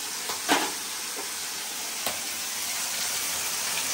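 Fish frying in hot oil in a home kitchen, a steady soft sizzle and hiss throughout, with a few brief crackles and a spatter pop at the start and midway.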